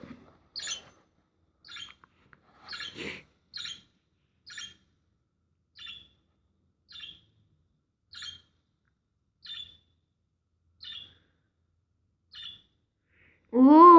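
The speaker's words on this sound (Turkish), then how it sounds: "Bu muhabbet kuşu sesi değil mi yahu?" Sparse, faint high chirps from a budgerigar repeat at intervals of about a second, followed at the end by a louder warbling call.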